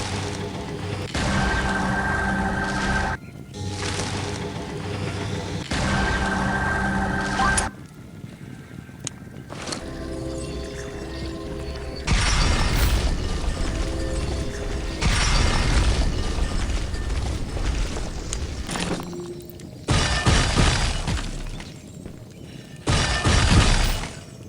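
Weapons firing in the video game Pixel Gun 3D, with loud repeated bursts of shots and crashing impacts arriving in separate volleys, broken by short pauses.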